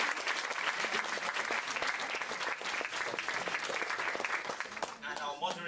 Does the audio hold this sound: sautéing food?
no